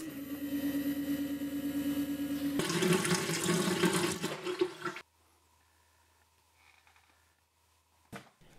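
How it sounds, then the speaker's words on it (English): A household faucet is opened to bleed air from the water lines, sending out a strong rushing stream with a tonal hum. The flow swells and sputters, then cuts off abruptly into near silence. "this is a good time to turn the water back on and bleed any air in the lines by opening a faucet"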